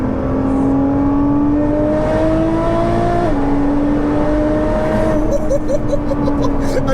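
A hybrid-turbo Nissan GT-R tuned to 820 bhp accelerates hard from inside the car, its loud engine note climbing steadily through a gear change with a whirring turbo spool, and people speak faintly under it.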